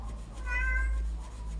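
A cat meows once at close range indoors, a drawn-out, fairly loud call over a low steady background hum, with no talking.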